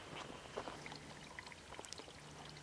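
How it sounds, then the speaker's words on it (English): A faint trickle from an artesian well's stream, the last of its flow, gives soft, intermittent splashes and drips with quiet background air and no voices. "The last trickles of the stream from this artesian well still trickling."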